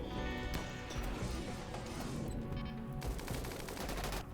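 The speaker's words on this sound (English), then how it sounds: "I guess it's time to let the turrets do their job." Turrets in the video game Rimworld fire at mechanoids in a dense, continuous barrage of game gunfire, loud and busy for the whole stretch with no pause.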